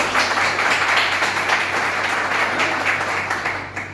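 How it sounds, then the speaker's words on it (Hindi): Dense, steady applause fills the room from an audience at a Safe Shop business seminar in India, a continuous wash of many hands clapping together with no voices above it, tapering slightly at the end. "मैं चाहता हूँ आपके डिसीजन के नाम एक जोरदार ताली होनी चाहिए।"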